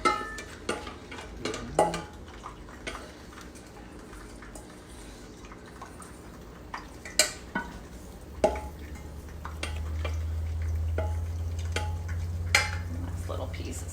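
Garlic frying in hot oil and stirred with a wooden spatula, a low steady sizzle that swells louder toward the end, broken by sharp scraping clicks and taps against the pan.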